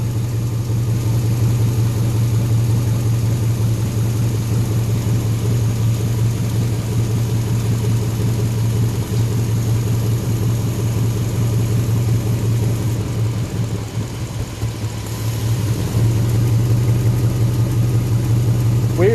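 A homemade racecar's V8 idles steadily with a vacuum leak, a constant low rumble that dips briefly before settling back to a loud, even idle.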